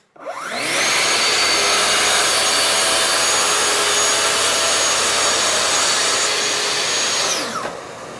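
A Festool TSC 55 KEB track saw fitted with an arbor cover spins up, makes a loud, sustained whining cut, then winds down near the end. The sound is close and continuous, with no voices.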